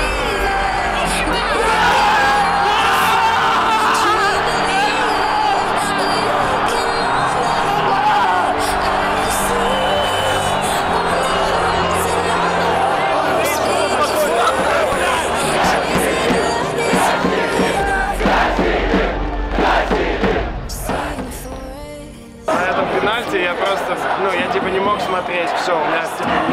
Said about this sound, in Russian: О, великий Сычев, как воспевает его болельщики.